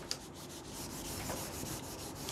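A duster rubbing writing off a classroom board, a soft continuous close scrubbing with rhythmic back-and-forth strokes, no voices.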